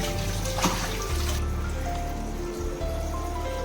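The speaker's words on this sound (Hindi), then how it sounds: "उसके बाद उसमें पानी भराना है।" Water is poured into a cooking pot while preparing a dish, a close, steady filling and trickling sound lasting a few seconds with no talking.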